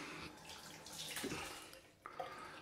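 Water splashes and trickles from a tap into a sink during a wet shave with a Falklands travel razor and Palmolive shaving stick, a steady close running wash with a brief louder splash near the end.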